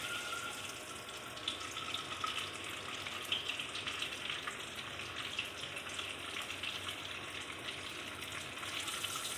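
Whole garam masala spices frying in oil for a matar gosht curry, a soft continuous hiss of low sizzle, faint and even throughout with no voices.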